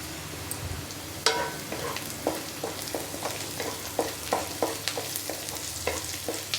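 Onions frying in a pan, browning for an aloo bukhara curry, with a steady sizzle and a run of stirring scrapes recurring in a loose rhythm close by, no voices.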